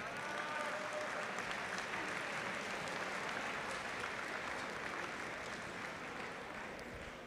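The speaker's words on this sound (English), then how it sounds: "give yourselves a round of applause." Sustained applause from a large crowd of high school seniors at a school car raffle drawing, steady and dense clapping throughout without a break.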